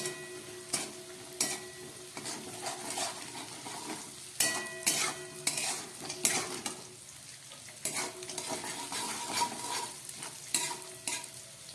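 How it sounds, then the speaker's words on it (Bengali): Cashews, raisins and nuts fry in hot oil beside vegetarian chire (flattened rice) and mixed vegetables, with a steady soft sizzle broken by sharp clicks and scrapes of a utensil stirring against the pan. "এবার আমি এই তেলের এক পাশে দিয়ে দেব কাজু, কিশমিশ আর বাদাম। এগুলোকে দিয়েও আবার খানিকক্ষণ ভাজতে হবে।"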